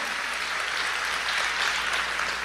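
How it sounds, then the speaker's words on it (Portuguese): A church congregation claps steadily through a worship service, dense sustained applause filling the room without pause. "Você pode aplaudir a Ele?"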